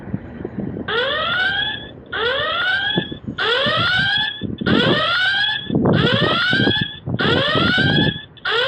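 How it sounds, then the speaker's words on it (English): The audible alarm on a Foscam B4 solar-powered security camera sounds loudly up close, six rising electronic whoops repeating at a steady rhythm of about one per second. "This has got an audible alarm, so you can scare somebody to death, and go ahead and listen to it."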